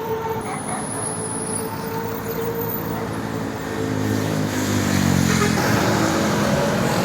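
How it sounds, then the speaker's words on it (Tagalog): Motorcycles and other road traffic pass along a road toward Tagaytay in the Philippines, a steady engine drone that swells louder midway as more bikes go by nearby, with no talking. "Napakaraming motor dito. Umakyat sila ng Tagaytay."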